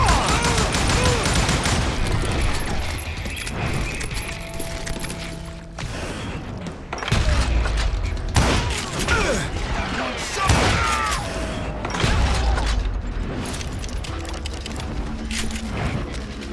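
Gunfire in the Western shooter game Call of Juarez: Gunslinger cracks in loud repeated bursts and single shots, with booming impacts and brief lulls, mixed with game voices.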